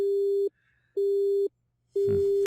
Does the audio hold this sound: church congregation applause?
no